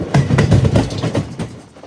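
Passenger train pulling away, a near, loud rumble with rhythmic clattering wheel beats over a short stretch, no voices.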